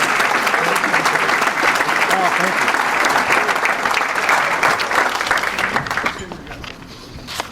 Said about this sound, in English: Could I have another round of applause for Jim Roop,